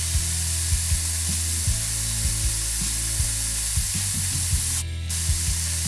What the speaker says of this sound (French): Nous utiliserons des bombes de peinture à la place.